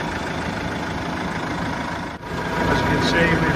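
A tractor fitted with a Zuidberg front linkage idles with a steady low rumble, continuous and moderately close, with a brief dip midway before the drone resumes slightly louder.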